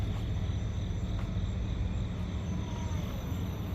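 An SG F-22 Raptor 4-channel RC plane flies at night, its electric motor giving a steady, moderately loud whirring drone that holds evenly throughout with no talking.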